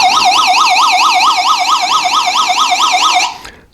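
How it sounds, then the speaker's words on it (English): A Raddy SW10 emergency radio's SOS alarm wails loud and close, a fast rising-and-falling electronic siren that repeats rapidly for about three seconds before cutting off abruptly. "And your SOS button is over here."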